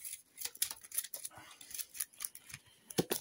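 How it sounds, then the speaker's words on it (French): Cards being shuffled by hand during a board game campaign of The Lost Ruins of Arnak, heard as a close, papery riffle of rapid crisp flicks lasting a few seconds. "Mélanger les cartes."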